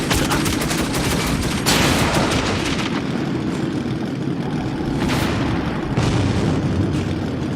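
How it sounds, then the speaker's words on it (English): Rapid, continuous turret machine-gun fire in the Metro 2033 video game, loud and sustained with dense overlapping bursts and rumbling booms, no talk. "like most turret sections, the turret has a heat meter and it will overheat if you keep firing too much."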